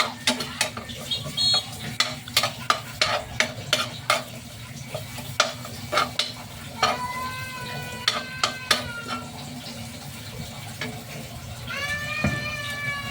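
Garlic and onion being stirred in a frying pan for ginisang odong, a spatula scraping and clacking in irregular bursts over a steady sizzle, with metallic scraping squeals later on; no talking.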